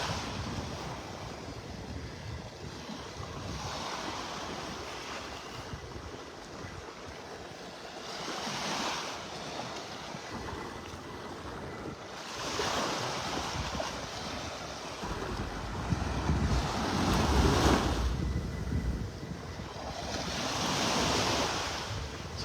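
Gulf waves roll onto Park Shore Beach in North Naples, Florida, with a continuous surf wash that swells and recedes in slow surges, mixed with wind buffeting the microphone.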